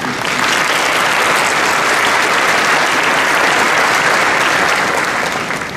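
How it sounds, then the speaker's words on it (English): Audience applause at a conference event in Toronto, broad and loud, holding evenly throughout before easing slightly at the end. "So a round of applause for the great OCE."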